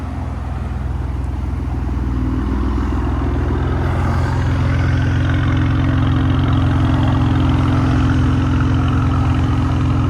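A straight-piped 3.0-liter twin-turbo V6 in a Maserati Quattroporte Q4 rumbles with a steady, loud, low drone throughout, idling or cruising amid traffic, with no talking.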